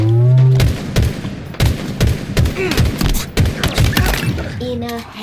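Rapid gunfire bursts and sharp impacts from the video game Halo Infinite, a dense close string of cracks and shots over several seconds, with someone talking over the action.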